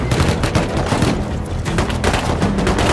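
Rapid, overlapping gunfire in the survival video game Rust, including AK and Tommy gun shots. Close, heavy bursts and single cracks fire almost nonstop, layered thickly with no clear pauses.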